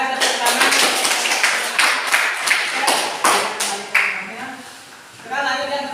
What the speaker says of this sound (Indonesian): Baik, silakan tepuk tangan.